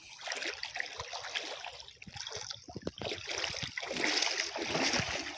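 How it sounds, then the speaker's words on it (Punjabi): Fast-moving floodwater rushes continuously around flooded village homes, a loud, steady broadband wash of water with bursts of splashing and turbulence throughout. "ਪਾਣੀ ਬਹੁਤ ਜ਼ਿਆਦਾ ਸਪੀਡ ਨਾਲ ਆ"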